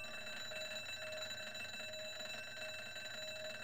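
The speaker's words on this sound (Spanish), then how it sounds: "un pitido agudo llenó el aire" A high-pitched electronic alarm beep in the Broken Sword adventure game, a steady shrill tone sounding continuously at moderate volume, with no voices.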